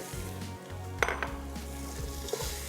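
Boiled beef and green chillies fry in a hot pan with masala, giving a steady close sizzle with a few clinks and scrapes of a utensil against the pan.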